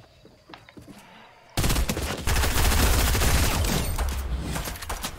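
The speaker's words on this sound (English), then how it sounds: "Press the aim button and then shoot" Loud, dense rapid gunfire from the Fortnite video game erupts after a quiet start and continues as a sustained barrage of overlapping shots, close and intense.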